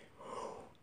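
A single sniffle, a short soft nasal intake of breath rising and fading within a second, close and quiet with no talk.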